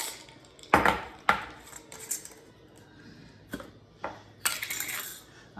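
Ice clatters inside a cocktail shaker as an espresso martini is shaken, in several uneven, loud rattling bursts separated by brief pauses, with close metallic clinks.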